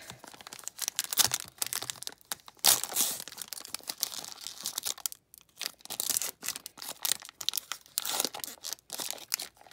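Foil wrapper of a baseball trading card pack being torn and crinkled open close up, a continuous run of sharp ripping and crunching bursts with brief pauses.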